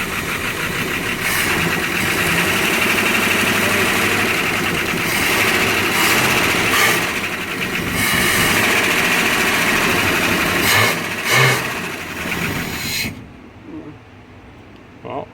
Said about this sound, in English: an engine startup.